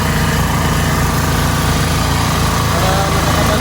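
One of two generators runs at a work site, a loud, continuous engine drone with a fast, even pulsing throb and no pauses from start to finish.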